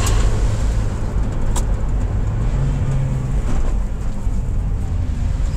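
Engine of a 2023 Toyota Rush GR Sport running while driving downhill, a steady low drone with road and wind noise from inside the cabin, loud and continuous.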